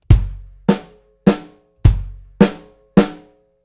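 Drum set hits spaced evenly in a steady three-count pattern, six strong, close strikes with ringing decay, played alone with no talking.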